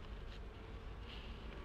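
Bees buzz at a beehive in a steady, close drone with a few brief swells.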